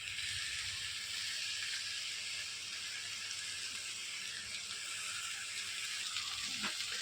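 Chopped tomatoes sautéing in a pan over a medium flame while a Mughal chicken curry is being cooked, giving a steady, even sizzle and hiss with no break and no voices.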